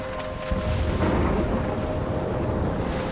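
A thunderstorm in the Life Is Strange video game gives a heavy, continuous rumble of thunder over a wash of rain, loud and close, with no speech.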